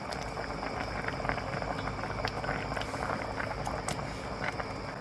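A pot of Thai sour curry with sea bass and mangosteen bubbling at a steady boil, soft continuous gurgling and popping up close.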